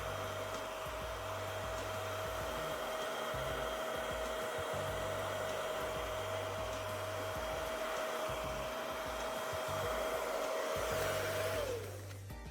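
A blow dryer fitted with an attachment roars steadily while drying and setting hair, a loud continuous airy whoosh with a fixed whine, running alone for about twelve seconds before the motor winds down.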